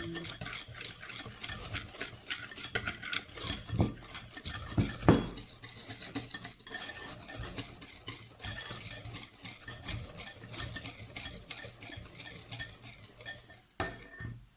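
A utensil stirs and clinks steadily against a bowl as chunky fudge brownie batter is mixed with two eggs, close and continuous with scraping and tapping throughout.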